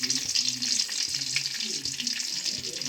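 Garlic frying in hot oil in a home kitchen pan, a continuous close sizzle and crackle with some stirring, steady and moderately loud throughout.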